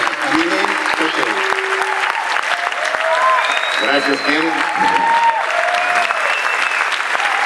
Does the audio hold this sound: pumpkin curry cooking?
no